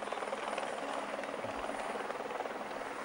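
A helicopter hovers above the Tour de France 2008 stage in the Alps, its rotor giving a loud continuous choppy drone over a broadband roar.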